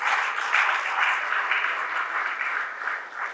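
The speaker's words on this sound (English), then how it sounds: "can our second round of applause be for that family?" An audience applauds a family at a business-scaling event, a steady, dense wash of many hands clapping that holds at an even level throughout with no voices.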